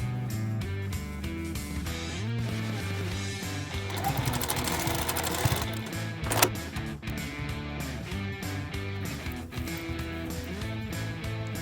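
A sewing machine stitches along the edges of a fabric mesh pouch, running steadily and close for the whole stretch, with rapid rhythmic needle clatter and a brief louder clack partway through.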